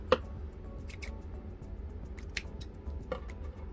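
Scissors trim the ends of a ribbon for a bow in a quiet room, giving a handful of crisp, separate snips spread over a few seconds.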